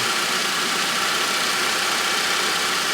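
A car engine idles steadily during an oil pressure test, producing a continuous even mechanical hum with faint ticking that holds at a constant level close to the microphone, with no talking.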